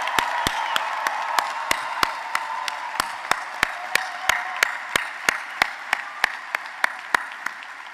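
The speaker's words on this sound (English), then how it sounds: "I think we need another round of applause for our graduates" A commencement audience gives graduates of a college of architecture and design a sustained round of applause, a steady wash of clapping from a large crowd with sharp, evenly spaced claps standing out in a regular beat.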